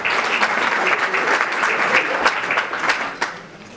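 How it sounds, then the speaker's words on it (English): Dense audience applause in a hall after a community event, steady and loud for several seconds before thinning out toward the end. "Give them a round of applause, eh?"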